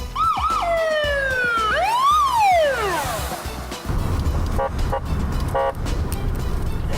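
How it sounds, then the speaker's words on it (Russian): A loud police siren wails and yelps with rising and falling sweeps, then cuts off, leaving rumbling traffic and short electronic chirps. "Подается звуковой сигнал, включается световая звуковая сигнализация."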